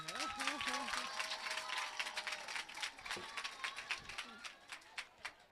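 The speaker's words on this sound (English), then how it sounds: "A round of applause for Beat Breakers" Audience clapping for a dance group at a show, a patter of claps and cheers running beneath a voice speaking loudly over it, thinning toward the end.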